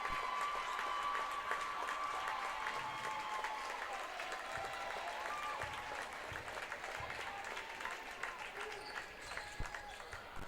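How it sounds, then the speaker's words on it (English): Sustained applause and cheering from the Freeman Falcons home crowd at a high school boys basketball game, a dense wash of clapping filling the gym for the whole stretch, with crowd voices mixed in. "As the starters get a standing ovation from the Freeman's side."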